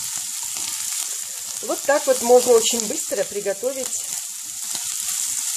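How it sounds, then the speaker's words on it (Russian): Butter bolete mushrooms fry with onions in a pan, giving off a steady, close hiss of sizzling oil. A voice speaks briefly over the frying. "И помешиваем, чтобы не пригорели, чтобы грибы жарились вместе с луком."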